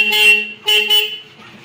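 Horn of an electric rickshaw sounding after its wiring fault was repaired: two short, loud, close beeps, the second slightly longer, then quiet.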